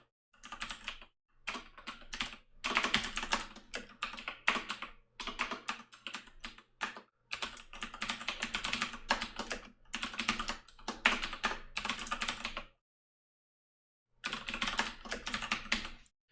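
Rapid keystrokes on a computer keyboard while entering CSS border code, continuous close clatter in bursts with a short pause near the end, no voices.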